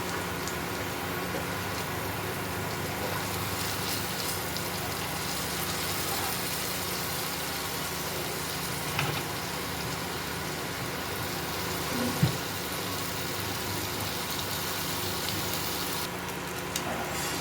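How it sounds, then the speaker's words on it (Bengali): Paneer pieces fry in a pan for paneer tikka, giving a constant, fairly loud broadband sizzle with a couple of brief clicks and no speech. "এইভাবে পনিরগুলোকে ভালো মতো ভেজে নিতে হবে"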